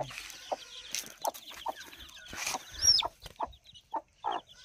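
Ten-day-old chicks making soft clucks and peeps in short, repeated bursts, close by and fairly quiet, with one higher chirp partway through.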